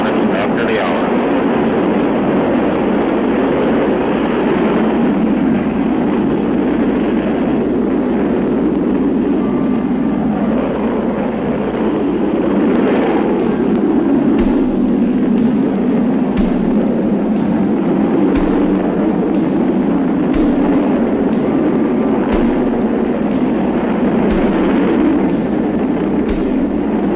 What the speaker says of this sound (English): Ignition. Liftoff. Liftoff at 34 minutes after the hour.